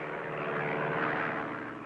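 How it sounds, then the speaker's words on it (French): A Messerschmitt Bf 109E fighter flying past with its engine droning, a steady, faint, distant aero-engine hum that holds briefly and evenly with no other sounds. "Cette E pour Émile a un moteur plus puissant et vole à 575 km/h."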